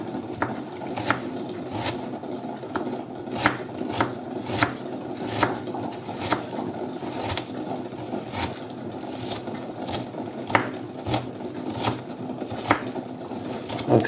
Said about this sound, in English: then you just finely chop it like that